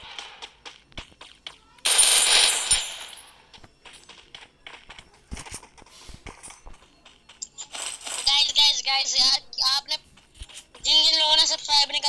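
Video game gunfire, with sharp clustered shots and rapid bursts scattered among footstep-like clicks, while a player talks over the action.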